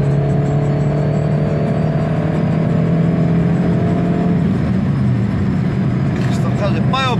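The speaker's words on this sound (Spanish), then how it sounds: "Pa da vidiš kako kola kreću." A Daihatsu Applause car accelerates and shifts from second to third gear, its close, loud engine drone holding steady tonal harmonics throughout, with brief squeaky chirps near the end.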